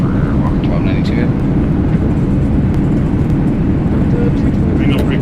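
E-Jet 175 landing in the X-Plane flight simulator with thrust reversers deployed, a loud continuous low engine rumble and roar held throughout.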